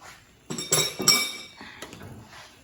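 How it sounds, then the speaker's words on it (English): Seasoning being mixed into scalloped potatoes in a cast iron skillet, heard as a few clinks and scrapes of a utensil against the pan, moderately loud, with a softer tail of stirring. "and then I mix that all in"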